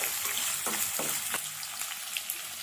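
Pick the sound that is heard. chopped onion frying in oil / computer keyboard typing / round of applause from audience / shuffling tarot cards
chopped onion frying in oil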